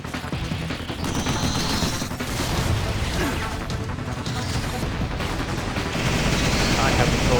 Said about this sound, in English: The cruise machine gun is basically just the heavy machine gun,